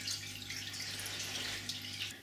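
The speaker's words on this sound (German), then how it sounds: "ich gieße also kontinuierlich immer einen ganz kleinen Schluck damit dazu" Water trickles steadily from a small pour into the pot of a vanilla plant, a continuous close splashing over a low hum.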